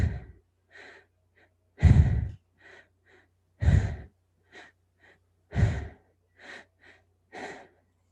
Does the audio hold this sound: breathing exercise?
yes